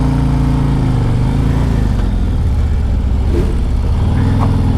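A 2024 Harley-Davidson Street Glide riding in road mode, its steady low engine rumble loud and continuous throughout with wind noise, no talk.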